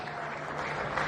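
Brief burst of audience applause, dense steady clapping from a gathered crowd at an Indonesian production community event, moderately loud throughout the short moment.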